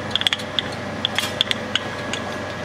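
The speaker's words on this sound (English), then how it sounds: "So we're going to spend some time cranking up the sump" Someone cranks up the sump on an FEI dualbeam FIB XL835 electron microscope with a 200mm five-axis stage. Irregular close metallic clicks and ratchet ticks come in quick bursts, with no talking.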